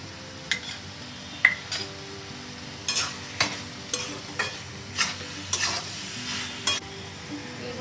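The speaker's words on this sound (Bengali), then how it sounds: "আমি ভালো করে নাড়িয়ে দেব" Chicken momo filling frying in a pan and being stirred, steady sizzle under repeated close scraping strokes of the spoon, roughly one every half second, with faint clinks against the pan.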